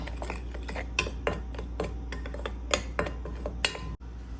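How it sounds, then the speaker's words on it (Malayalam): Shredded cabbage tossed with a pinch of asafoetida and salt in a bowl: light, irregular clinks and scrapes of a utensil against the dish, close and fairly quiet, ending with one sharper knock. "ഒരിച്ചിരി ഉപ്പും കൂടെ ഇട്ട് നമുക്കിതിനെ നല്ലവണ്ണം മിക്സ് ചെയ്തെടുക്കാം"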